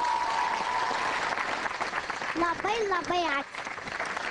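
Studio audience applauds a young contestant on a talent show, a steady wash of clapping that runs throughout while a voice speaks and sings over it.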